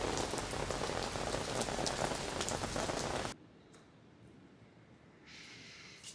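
Rain falling in London, a dense loud hiss of drops pattering on surfaces for about three seconds, then cutting abruptly to near quiet with faint noise.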